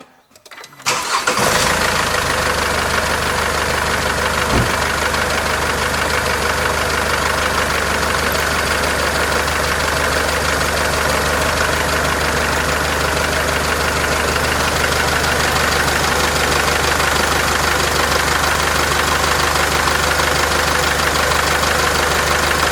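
A car engine with a leaking radiator hose cranks briefly and catches, then runs at a loud, steady idle close by for the rest of the stretch, with no voices.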